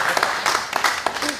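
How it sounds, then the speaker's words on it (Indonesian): An audience at a Batak comedy show claps in scattered bursts, with a voice talking over the clapping. "Tepuk tangan dulu,"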